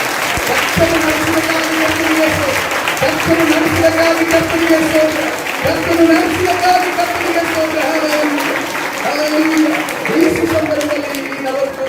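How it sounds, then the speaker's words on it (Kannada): A congregation at a church's 43rd anniversary service bursts into sustained, loud clapping that rolls on throughout, while a voice speaks and sings over the applause. "ಕರ್ತನಿಗೆ ಚಪ್ಪಾಳೆಯನ್ನು"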